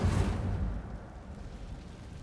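A fire spell cast in Hogwarts Legacy bursts out in a sudden deep whoosh, then settles into a rumbling roar as the flames fade.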